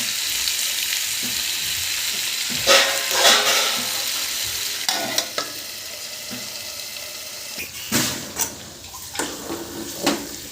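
Potato and carrot pieces frying in a pan with curry leaves, a steady sizzle with several louder bursts of stirring and scraping across the clip, close up and with no talk.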